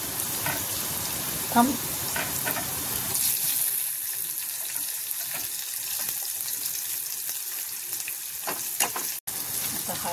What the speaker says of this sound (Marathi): मग टोमॅटो टाकायचं त्यामध्ये.